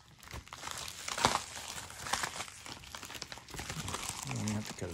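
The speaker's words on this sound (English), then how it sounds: "And then in this package, we're gonna cut this open real fast." A plastic package for a Game Boy Advance game is cut open quickly, giving close, loud crinkling and crackling with a sharp snip partway through, while a person talks over it.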